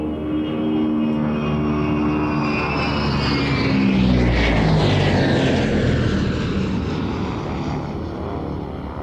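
A Tupolev Tu-95 propeller aircraft flies past at an air show, a loud droning roar of turboprop engines swelling and shifting in pitch as it passes, no voices.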